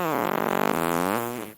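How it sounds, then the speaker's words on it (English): A long, loud, buzzing cartoon fart rumbles for over a second, steady and tonal before trailing off, with no talking over it. "That was my famous Klondike fart."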